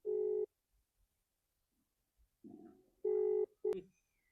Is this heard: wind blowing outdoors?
no